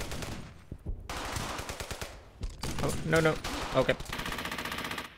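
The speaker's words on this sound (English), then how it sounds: "There's an MG over there." Machine gun fire in the Brothers in Arms: Hell's Highway war video game comes as dense, rapid rattling bursts over a busy battle soundscape, while someone speaks briefly.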